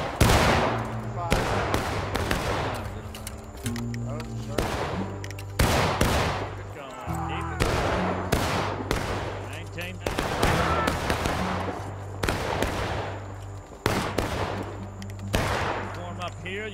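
Musket gunfire in the multiplayer war game War of Rights, in a zombie mode, with repeated loud sharp shots cracking out irregularly throughout, some in quick bursts, over a steady background hum.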